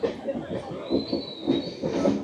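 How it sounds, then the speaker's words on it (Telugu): The Araku mountain railway train creeps slowly uphill, with soft rhythmic clacks of the wheels and a faint thin squeal running through a low rumble, heard from on board. "ఇప్పుడైతే ట్రైన్ చాలా స్లో అయింది చాలా స్లోకి వెళ్తుంది"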